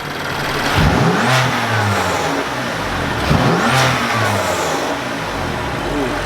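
BMW F80 M3 engine with an SSR intake install revving twice, close and loud, each rev rising and falling with a heavy exhaust roar over intake sound.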